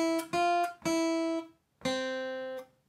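Guitar playing one measure of Ode to Joy: four clear plucked notes, two quick ones followed by two longer sustained ones, close and alone.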